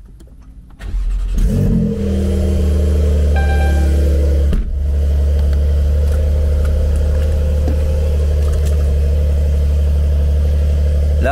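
Cold start of a Porsche 992 Carrera 4 with a stage 2 tune: the engine cranks and fires with a sharp rev flare, then settles into a loud, steady high idle that continues to the end.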